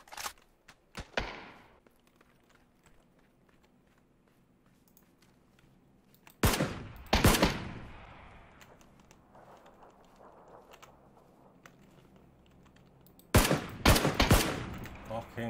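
Bursts of gunfire in a PUBG match ring out, a short volley at the start, then two louder, denser clusters of rapid shots midway and near the end, with quiet game ambience between them.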